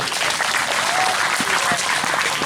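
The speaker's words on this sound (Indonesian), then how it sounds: "Beri aplaus dulu Bapak Ibu." A congregation applauding at a combined Easter church service, dense sustained clapping from many hands filling the room, with voices faintly mixed in.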